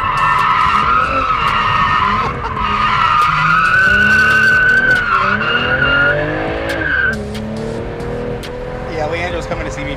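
A BMW G22 M440i drifts with its tires skidding and squealing loudly and continuously, the engine roaring underneath and easing off near the end, while people talk excitedly over it.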